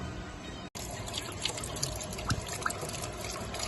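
Coolant and sediment drain from the opened drain tap of a Rootes 1725 engine in a Sceptre Mk1, a continuous watery trickle with scattered drips and splashes, close by and moderately loud.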